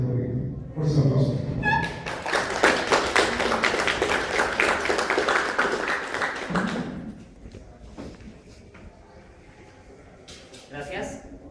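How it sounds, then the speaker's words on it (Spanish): A small audience claps for a speaker being introduced at a talk, a lively burst of close hand claps lasting about five seconds before dying down into scattered taps and thumps. "Fuerza aplauso"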